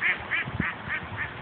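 Ducks quack in a steady series of about five calls outdoors, moderately close, with faint background noise and no talk.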